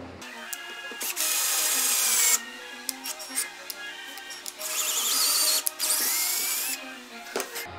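A power drill with a Diablo bit bores a hole for a threaded insert in furniture, whining loudly in two long bursts separated by short pauses and quieter intervals.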